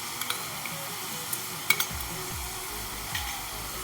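Tomato paste with ginger garlic paste being sautéed for a spicy brinjal dish, a soft continuous sizzle broken by a handful of spatula scrapes and light knocks against the pan.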